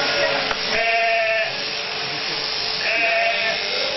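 Sheep bleat repeatedly during shearing of an Oré Campa ewe in the Séris valley, two drawn-out, wavering calls rising over a steady buzzing electric shearing clipper.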